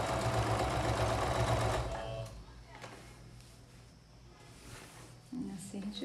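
A sewing machine runs fast and loud stitching a straight seam, then stops, leaving a quieter stretch where someone speaks in Portuguese.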